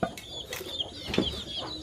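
Chickens cluck in short, irregular bursts close by, with a few sharper calls over a quiet rural background.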